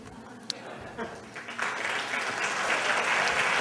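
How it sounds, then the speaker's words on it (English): Lukewarm audience applause at a comedy podcast event in Montreal, a scattered clap or two growing into steady, moderate clapping that fills the room. "Tepid applause, ladies and gentlemen."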